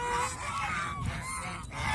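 Domestic geese on a farm, returning from a haor wetland, honk repeatedly in a clustered, overlapping chorus at moderate distance.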